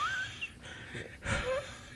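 A voice imitates panting after running, a couple of quick, wheezy breaths that are close and moderately loud.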